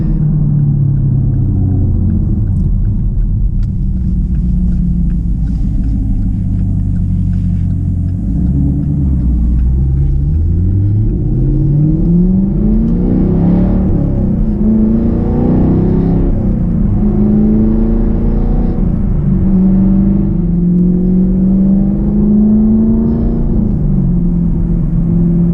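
A car accelerating hard onto a highway, heard from inside: loud deep engine rumble that rises in pitch through several gear pulls, each climb dropping and building again over a long, continuous run.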